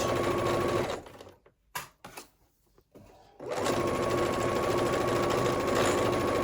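Sewing machine stitching tank top fabric: a close, loud, steady mechanical whir that stops for about two seconds with a few faint clicks, then starts again and runs on evenly.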